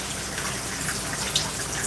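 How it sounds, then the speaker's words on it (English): Water is poured or sprayed onto curly hair during a wash, a continuous hissing splash at a steady close level. "I think I have enough water in there. I'm gonna add some more to good measure."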